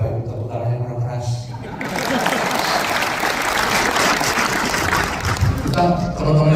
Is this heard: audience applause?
yes